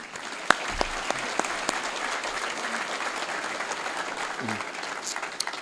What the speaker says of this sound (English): Let's please have a round of applause for our sponsors.